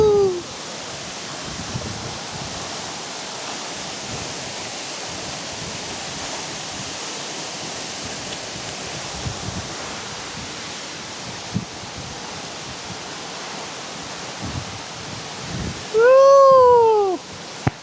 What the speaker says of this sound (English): Water is falling from the rock.